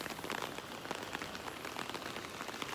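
Rain falls steadily on a beach in North Naples, Florida, a dense continuous patter of drops close by with no voices.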